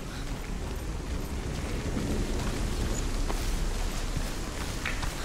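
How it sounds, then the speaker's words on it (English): Steady, dense rain falls throughout in the video game Hellblade: Senua's Sacrifice, a continuous broadband hiss with no clear breaks, moderately loud and with no voices over it. "Now it's raining"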